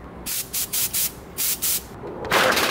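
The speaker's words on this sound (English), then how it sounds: "What I wanted to show you guys is another use for your shop air compressor." A shop air compressor's nozzle blows dust out of a computer power supply in eight short hissing bursts, each about a quarter second, then one longer, louder blast, close by with no talking.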